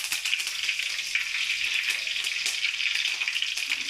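Mustard seeds and curry leaves fry in hot oil for a bitter gourd fry, giving a steady, close, crackling sizzle with small pops throughout and no voices.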